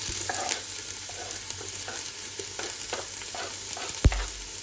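Onions fry in oil in a pot, giving a continuous close sizzle with scattered stirring scrapes and a sharp clunk near the end.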